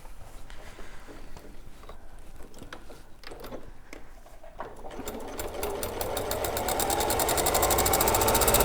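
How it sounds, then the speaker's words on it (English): A domestic sewing machine runs stitches around the edge of festive Scandi Christmas panel fabric, at first in short intermittent bursts and then as a steady, increasingly loud continuous whir close by, with no voices. "So if I just stitch a little bit"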